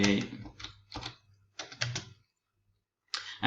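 Someone types on a computer keyboard. The keystrokes come close and clear in quick clusters, with short pauses between the bursts and no talking.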